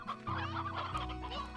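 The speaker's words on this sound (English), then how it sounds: "Need more roosters at this rate." Chickens and roosters cluck in the video game Slime Rancher, a short burst of several overlapping clucks, fairly close and clear with no talking.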